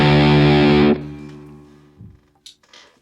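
Eureka fuzz pedal on electric guitar: a loud, thick distorted chord rings for about a second, then is cut off, leaving a fading hum and a few faint clicks and scrapes.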